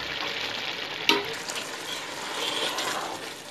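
Mutton biryani being stirred in a pot as the water dries off, giving a steady scraping and sizzling with one sharp clink of the spoon near the start, close and moderately loud, no talking.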